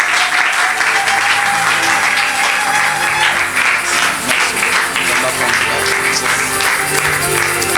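A church congregation applauds loudly and continuously to welcome a bishop, a dense sustained wash of clapping with voices and sustained musical tones underneath.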